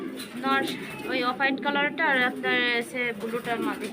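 Pigeons coo repeatedly in soft, rolling calls at a pigeon farm, close and fairly loud, overlapping with people talking nearby.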